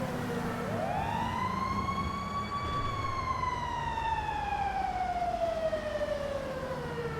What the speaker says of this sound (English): Oh, it's a fire truck. Fire truck!